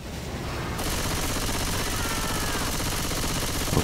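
Shotgun fire in the zombie shooter Left 4 Dead 2: a loud, continuous barrage of rapid blasts that starts abruptly and keeps an even, heavy intensity to the end, with no talk.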